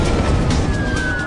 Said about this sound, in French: Quand Robert Hamilton, le chef des pompiers, entend l'alerte